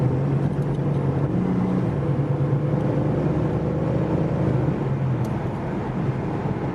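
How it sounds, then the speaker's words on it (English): A 2008 Ford Mustang accelerating on the road, a steady engine drone from inside the car with a faint high whistle riding above it, continuous throughout. "you get on the gas, you can hear like a whistle sound. It like sounds like a little turbo"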